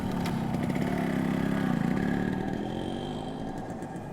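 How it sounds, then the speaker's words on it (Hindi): A motorbike carrying two riders pulls away, its steady mid-pitched engine drone continuous and fairly loud throughout, with some clatter as it moves off. "बाइक पे बैठकर उस घर के लिए रवाना हो जाते हैं।"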